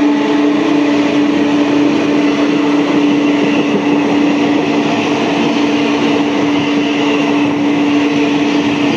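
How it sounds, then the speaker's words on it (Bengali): A through train runs past platform 4 of a suburban railway station on the Sealdah main line with a loud, steady roar and a sustained hum, close and unbroken throughout. "এই 4 নম্বর প্ল্যাটফর্ম দিয়ে থ্রু ট্রেন যাবে।"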